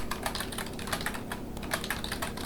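C code is typed on a computer keyboard in a quick, uneven run of light key clicks, close and fairly quiet, with no voice over it.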